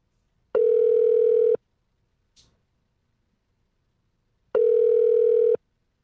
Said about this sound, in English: You're calling the main number? Yep.